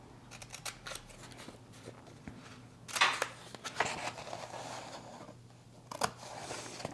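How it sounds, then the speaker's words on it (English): Scissors snipping at an enamelling craft bench, a few separate crisp cuts spaced apart among light handling rustles, close and fairly quiet. "I'm going to get some scissors"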